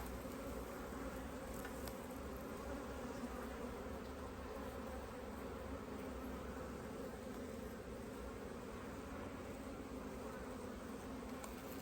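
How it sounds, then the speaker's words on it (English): Bees buzz steadily around a hive beside a large neighbouring colony, a dense continuous hum that holds at an even level for the whole stretch, with no talking. "Trying to catch a bee."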